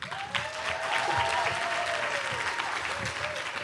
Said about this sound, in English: Can you please give a warm round of applause